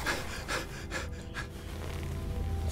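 A character in the Call of Cthulhu video game pants and gasps in quick, ragged breaths, close and rhythmic, over a low game ambience.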